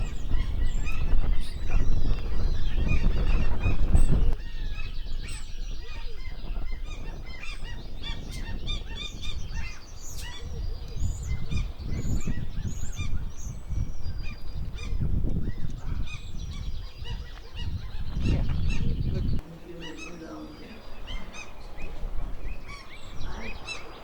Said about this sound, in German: Beobachten kann man hier in dem Naturschutzgebiet viele verschiedene Vogelarten.